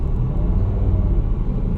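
Congested car traffic outside an international school, heard as a steady low engine and road rumble from slow-moving vehicles, close and continuous with no voices.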